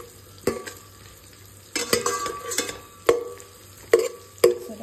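Masala for kavari fish curry sizzles in a hot kadhai while a spoon stirs and scrapes it in about six sharp, close strokes over a steady frying hiss.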